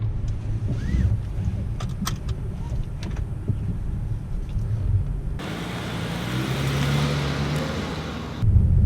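A 2019 Dodge Challenger SXT V6 drives along, giving a steady engine and road rumble with wind noise throughout and a brighter, louder rushing stretch partway through.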